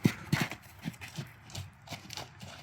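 Mustang horses playing together, their hooves clip-clopping in several uneven bursts of thuds, fairly close, with no talking.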